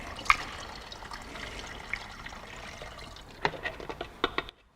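Still water poured into petrol in a container, a soft trickling pour with a few sharper splashes and drips toward the end before it stops, close and fairly quiet.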